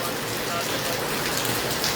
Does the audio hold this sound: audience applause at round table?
no